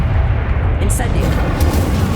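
Incendio fire spell cast in the Hogwarts Legacy video game during a fight with Inferi: a loud, continuous roaring, crackling burst of fire with deep rumbling low end, filling the whole moment without pause.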